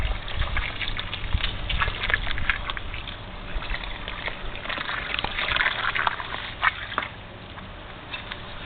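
Water pouring from above into soil in a container of cucumber plants, a steady patter and trickle with faint splashes, close and continuous.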